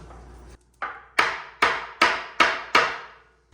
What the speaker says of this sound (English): Align the holes with the shoe rail and tap gently.